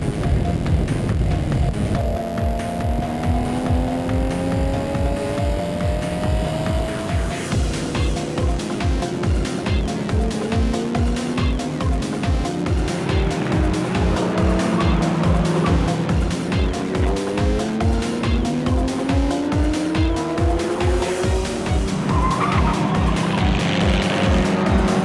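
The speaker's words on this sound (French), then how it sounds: "C'est sur le circuit Paul Ricard que se déroule l'ultime épreuve de ce Tour Auto 2014." Race cars lapping Circuit Paul Ricard during the final stage of the 2014 Tour Auto, engines roaring loud and continuous with rising and falling gear-change sweeps, cars passing close, and occasional tire squeal.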